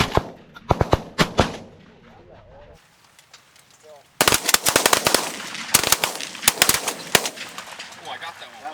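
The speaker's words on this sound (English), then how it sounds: "Good shooting, boys." Shotgun blasts on an outdoor pigeon hunt come in sharp, loud clusters, a brief lull with faint birds, then a rapid string of near shots, with voices among them.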